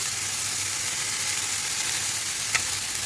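Fresh fish frying in a pan, a loud, steady sizzle and hiss heard close up with one brief clink of a utensil near the end.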